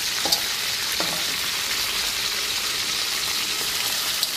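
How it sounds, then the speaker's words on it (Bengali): Pieces of chicken sizzling steadily in hot oil, a loud continuous crackle with a couple of brief clinks near the start. "এই যে এক এক ধাপে আমি মুরগি রোস্টের জন্য মুরগিগুলো ভেজে নিচ্ছি সব"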